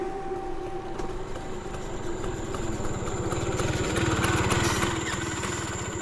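A scooter engine runs steadily and fairly loud, with a low rattling chug and a faint high whine, swelling slightly before settling.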